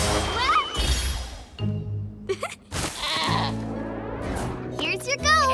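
A cartoon goat bleats several times, high and wavering, between lines of animated character dialogue.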